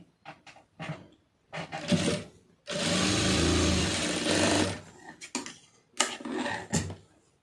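A sewing machine stitches a blouse lining in several short bursts and one longer run of rapid whirring, with handling clicks and fabric rustle in the pauses between.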